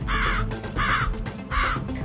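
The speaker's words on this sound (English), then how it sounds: "many crows started coming down to peck at them all" Three loud, harsh caws from crows, evenly spaced and close, heard alone without any talk.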